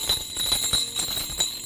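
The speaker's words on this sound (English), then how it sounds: "The next thing I got was this little doggy bell." A small dog potty-training bell chain with several bells jingles in quick irregular shakes, bright metallic tinkles close by with faint rattling underneath, no voices.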